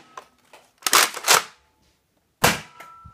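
A Nerf Rival Apollo XV-700 foam ball blaster being primed and fired, with sharp mechanical clacks and a punchy burst of air at close range, a quiet pause, then another shot, with no talking.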